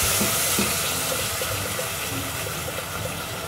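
Thick peanut sauce, two jars of it, tips into a saucepan with a continuous close gushing pour that holds steady throughout without any voices.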